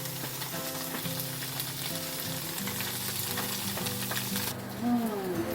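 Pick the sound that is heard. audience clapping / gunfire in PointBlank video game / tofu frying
tofu frying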